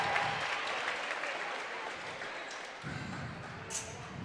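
Crowd applause and cheering fill a gym during a girls' varsity basketball game, a steady broad wash of clapping at moderate distance that swells again near the end, with a brief sharp squeak or whistle-like burst.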